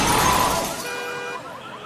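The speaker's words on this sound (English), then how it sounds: "He's crashed into the car at the bottom there." A car crash plays from a video shown in a talk, opening with a loud shattering impact that gives way to a wavering siren-like tone, heard through room playback.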